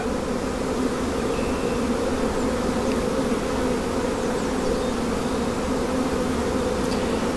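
Honeybees buzz steadily around their hives in an apiary, a dense, continuous drone heard close and loud for the whole stretch, with no talking over it.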